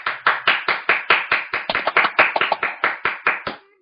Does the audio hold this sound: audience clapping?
yes